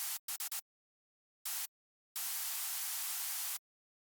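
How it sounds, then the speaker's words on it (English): Bright white noise from a Serum synth patch in a bass house production: four short clipped bursts, one lone burst, then a long sustained hiss cutting off abruptly, high and airy with no low end. "a serum patch I made with a bright white noise"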